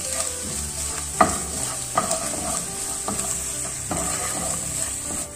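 Chopped green chillies sauté with garam masala in a pan for chana masala: a steady close sizzle broken by sharp periodic spatula scrapes and clinks against the pan, roughly once a second, no voices.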